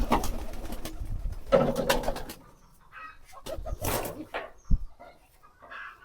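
Pet pigeons coo around a dish of clean drinking water, low throaty calls in a few bursts with quiet gaps between them and no one speaking.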